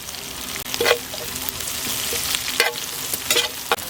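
A sprig of curry leaves hits hot oil with onions in a pan, giving a bright continuous sizzle and a few sharp scraping stirs, close by and without talk.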